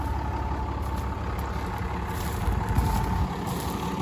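A tractor pulls a subsoiler through a rapeseed field, its heavy engine droning steadily and fairly loud in a low, constant rumble with no talk.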